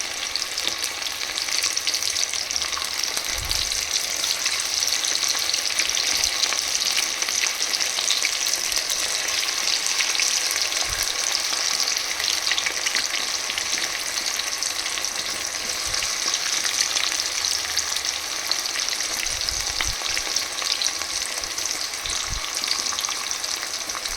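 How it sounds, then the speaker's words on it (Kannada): Homemade French fries frying in hot oil: a steady, close, loud bubbling sizzle that carries on without a break, with a few faint low knocks now and then. "ನಮ್ಮ ಫ್ರೈಸ್ ಬೇಯ್ತಾ ಇದೆ ಗೈಸ್."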